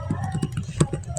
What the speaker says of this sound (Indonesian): Di sini saya akan mengetik angka 1